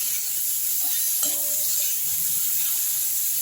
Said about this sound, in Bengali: সবজিগুলো নুন হলুদ দিয়ে ভাজা ভাজা হয়ে গেছে।